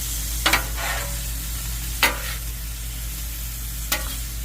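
Food sizzles softly in butter in a pan under a steady low hiss, broken by three sharp scraping stirs of a utensil spaced a second or two apart.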